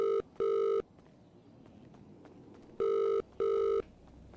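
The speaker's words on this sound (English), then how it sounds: "I got a lot of ringtone." A phone's electronic ringtone, two bursts of two short beeping tones each, spaced a couple of seconds apart over quiet background noise.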